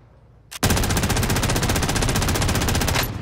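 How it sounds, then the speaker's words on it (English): Gunfire in the video game Call of Duty on Rebirth Island: one loud, sustained automatic burst of rapid, evenly spaced shots lasting over two seconds, starting abruptly after a brief quiet lead-in. "No, I'm just shooting someone from distance."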